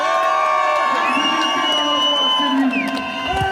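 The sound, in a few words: march crowd applauding and cheering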